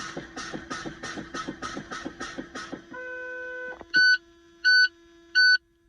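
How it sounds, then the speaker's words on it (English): A truck's low air pressure warning sounds at around 60 psi: rapid rhythmic pulsing, then a steady electronic tone, followed by three loud, evenly spaced beeps. "around 60 psi, 2 lights came on and my buzzer came on"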